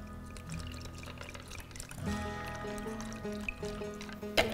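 Milk is poured into cold coffee with a soft, steady liquid pour. Light background music plays over it, and a sharp clink of glass comes near the end.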